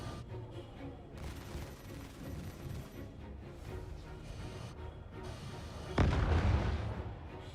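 Heavy ballistic turret gunfire in the space combat game Star Citizen, a dense continuous barrage of booming shots with a sharp louder burst near the end.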